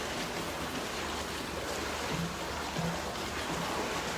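Swim spa water jets on full blast give a steady, loud, broadband rush and churn of turbulent water, continuous with no break, close to the microphone.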